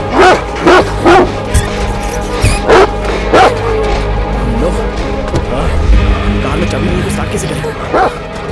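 A dog gives a series of loud, sharp barks and yips in quick bursts, broken by whimpering, over a noisy background.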